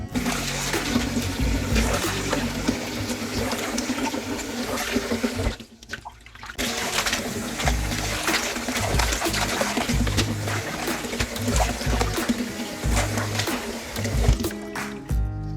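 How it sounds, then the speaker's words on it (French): Salted cabbage is rinsed in a bowl of water for kimchi, giving continuous sloshing, splashing and dripping close by, with a short quiet pause midway before the swishing resumes. "Maintenant, je vais les laver 2-3 fois dans l'eau et on va faire ce kimchi."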